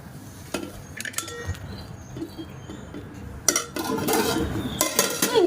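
Metal utensils clink and scrape on a plate while prawn fry is mixed by hand, with sparse taps early and denser, louder scraping and clatter in the second half.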